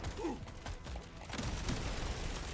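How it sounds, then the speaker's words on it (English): Explosions in the video game Deep Rock Galactic: Survivor, a quiet muffled run of booms and rattling blasts blending into dense game noise. "Ooh, okay. Good explosions."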